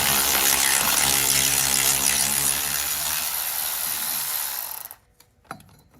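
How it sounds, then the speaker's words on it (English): A loud, steady mechanical whine of a power tool loosening a nut on a 2009-2014 Ford F-150 transmission cooler line bracket, with a ratcheting rattle, cutting out abruptly near the end followed by a few faint clanks. "power tools in here just to get it off faster"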